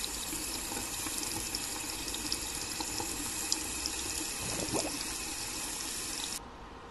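Steady running water from a lab sink tap washing a bowl of rocks in a lab simulator video game, a constant moderate hiss throughout that stops abruptly near the end, with no one speaking.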